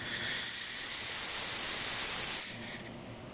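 A Pasquini Livia 90 espresso machine's steam wand hisses loudly and steadily for about two and a half seconds, then sputters and fades out.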